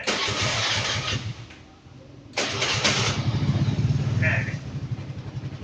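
A four-stroke motorcycle with an automatic electric choke, vacuum carburettor and gasohol fuel cold-starting in the morning: cranking noise dips, then the engine catches sharply and runs with throttle-twisted revving pulses, close up, with a voice briefly in the background.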